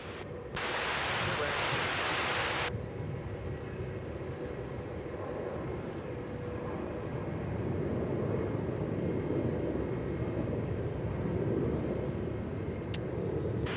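A Jetstar airliner just after landing at Melbourne Airport: a broad, steady roar of jet engines and rushing air that holds across the whole stretch, with a brief burst of hiss near the start.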